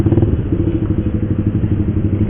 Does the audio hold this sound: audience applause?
no